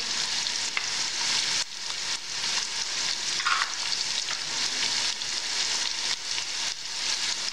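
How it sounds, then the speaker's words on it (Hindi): Whole spices such as bay leaves, cinnamon, black pepper and cloves sizzling in hot oil for vegetable pulao, a loud, dense, continuous frying hiss with occasional stirring scrapes. "अब हम सारे गर्म मसाले जो साबुत हैं वो डाल देंगे तो तेज पत्ते दालचीनी काली मिर्च लौंगे भी हम इसमें डाल देंगे"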